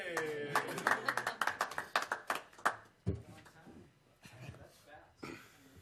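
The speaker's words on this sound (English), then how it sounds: "Let's give him a round of applause." Attendees at a Lehi City planning commission meeting giving a short round of applause, a few seconds of sparse, distinct hand claps from a small group, followed by people talking and scattered movement.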